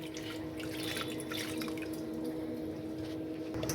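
Water trickles and drips steadily into a bowl of smashed tomatoes nearby for rasam, a soft, continuous splashing with no voices.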